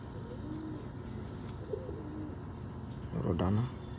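A female pigeon coos in a short low burst near the end, up close, under an indoor background hum.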